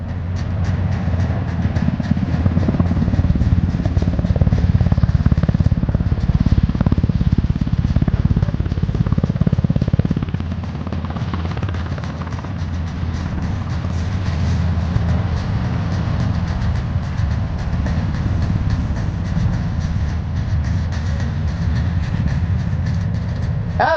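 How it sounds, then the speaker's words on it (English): An RCAF CH-148 Cyclone military helicopter performs at the Cold Lake Air Show, a steady, heavy, rumbling roar of engine and rotor that holds loud throughout and eases slightly partway through as it comes in to land. "Canada's newest helicopter, the CH-148 Cyclone helicopter"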